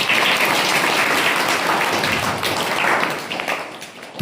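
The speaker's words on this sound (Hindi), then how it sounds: "एक ताली बजा सकते हैं इसके लिए।" A church congregation claps its hands during a sermon, a dense, even round of applause that fills the room, swells briefly and then tapers off.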